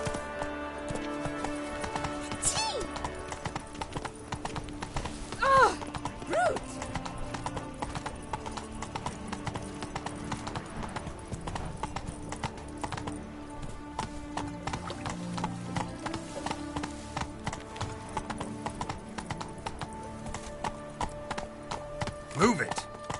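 Roach, Geralt's horse in Witcher 3, gallops with steady, rapid clip-clopping hooves throughout, mixed with game music and ambience, and voices speak at times.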